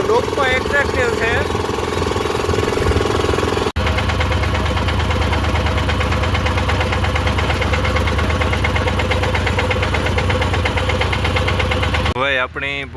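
A mini tractor engine runs at a steady, loud, rough idle with a knocking chug. Someone talks over it throughout, and there is a brief dropout partway through.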